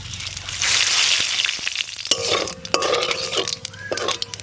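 Cumin seeds and dried red chillies hit hot oil for a tempering while magur fish curry is being made: a loud burst of hissing sizzle that settles into softer crackling with a few light clinks.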